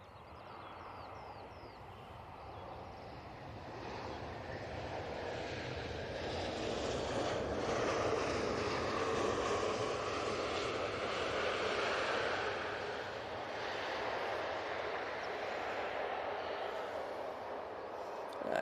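An easyJet airliner lands at Manchester Airport, a broad, distant engine roar swelling gradually toward the middle and then easing slightly, steady and without voices.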